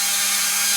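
A high-speed dental rotary tool grinds a slot into a denture tooth during repair, a brief, steady, high-pitched whine close up with no talk.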